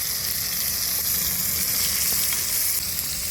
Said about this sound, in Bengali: তেলটা গরম হয়ে গেছে এবার এই যে গোটা জিরে শুকনো লঙ্কাটা দিয়ে দেবো দিয়ে দিয়ে টমেটোটা দিয়ে দিয়েছি